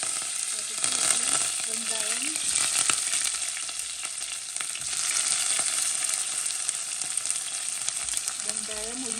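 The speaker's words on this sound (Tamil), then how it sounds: "எண்ணெயை ஊற்றி போட்டு அதுக்குள்ள கடுகு, சீரகம், வெந்தயம் எல்லாத்தையும் போடுறோம்." Mustard seeds, cumin and fenugreek fry in hot oil for a Jaffna crab curry, giving a steady close sizzle with fine crackles, while a voice speaks briefly now and then.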